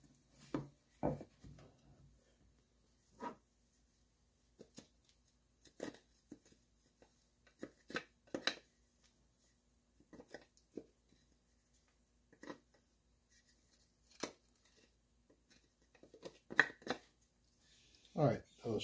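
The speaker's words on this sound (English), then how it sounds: "now I'll clean up a little bit those edges a little bit with the chisel" A chisel paring the wooden edges of a model lobster pond yacht, a faint series of short scraping cuts at irregular intervals in a quiet room, with no talk.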